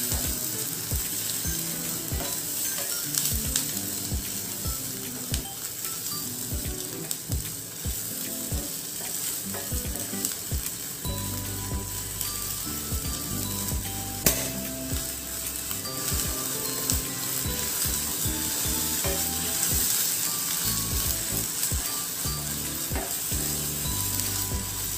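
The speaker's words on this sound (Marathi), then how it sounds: "आपल्याला हे वाटण अगदी छान परतून घ्यायचं आहे" Spice paste (vatan) sizzling and frying in a pan for a home dinner dish, with a steady bright hiss and scattered clicks and scrapes of stirring throughout, close and alone.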